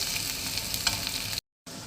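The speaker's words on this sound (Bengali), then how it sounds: "দেখো পেঁয়াজটা হালকা ভাজা হয়ে গেছে" Onions with curry leaves frying lightly in a pan for a flattened-rice (chire pulao, poha) breakfast, giving a steady close sizzle and crackle with a brief gap of silence near the end.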